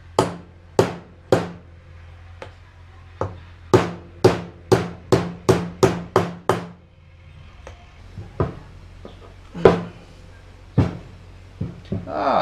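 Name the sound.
removing retaining pin from Honda Pioneer 500 axle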